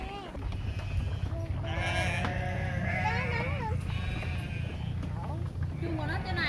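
Sheep bleat repeatedly in wavering calls while being herded back into their pen on a farm field, mixed with goats, a steady low rumble and people talking nearby.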